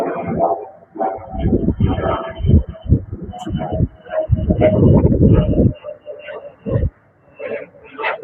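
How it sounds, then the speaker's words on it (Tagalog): A dog barks and yips in short bursts in a seaside informal settlers' area of Bacoor, Cavite, mixed with nearby voices talking and street bustle. "Huwag na tayong sumulong pa doon kasi may aso."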